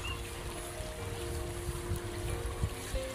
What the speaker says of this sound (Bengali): প্রাণীর সুখে জল ঘেটে যাচ্ছে।